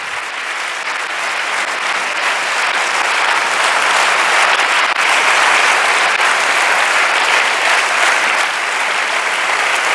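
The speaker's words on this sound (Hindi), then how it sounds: "आओ सारे अपने खुदा के लिए जोरदार तालियां।" A church congregation at an Urdu-Hindi sermon applauds loudly, with sustained and densely overlapping clapping that stays strong and even for the full ten seconds.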